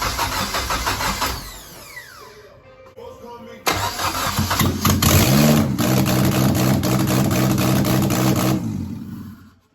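Honda Integra DC2 engine fitted with an RSX charge harness cranks briefly, stalls, then cranks again and catches into a loud, steady, slightly uneven idle close by, with a voice speaking briefly over it.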